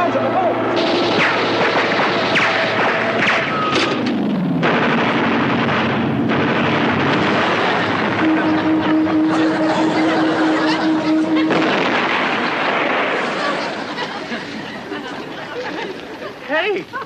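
Anti-aircraft gun firing at an attacking Japanese Zero plane in a 1960s TV sitcom scene, sustained booming bursts and roaring plane noise under frantic shouting voices throughout.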